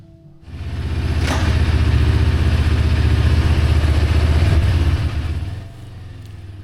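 Motorcycle fitted with new front and rear sprockets and a new DID chain, leaving a bike shop: its engine runs loud and close with a steady pulsing idle for about five seconds, then drops to a quieter idle.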